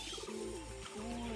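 Pet pigeons on a rooftop give soft, throaty coos in a rolling sequence, close by and moderately clear over a light background hum.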